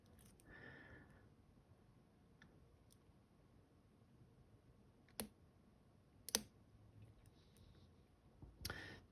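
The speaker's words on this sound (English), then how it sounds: "you can probably hear some of the clicks there as I work these barrels up" Faint, sparse metallic clicks from picking an Assa Twin Maximum lock, a few isolated sharp ticks spaced seconds apart over a quiet background.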